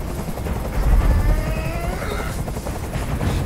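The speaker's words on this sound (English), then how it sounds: "I can't stand that noise anymore. Tell that helicopter to get out of here." A helicopter in the video game Detroit whirs with a steady, continuous rotor drone that stays fairly loud and unchanging throughout, with no voices.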